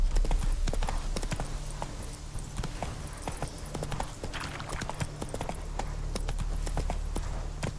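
Horse hooves clip-clop in The Witcher 3, a rapid, rhythmic trot of sharp clops at close range over faint ambient background, continuing steadily without talk.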